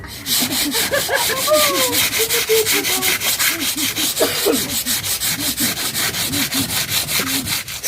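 Sandpaper rubs steadily across wood in a loud, continuous rasping rhythm of quick back-and-forth strokes, with faint voices talking underneath.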